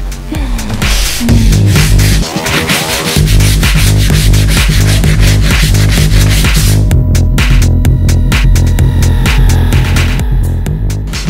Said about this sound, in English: let's take our sander, and we're just going to kind of scuff into this surface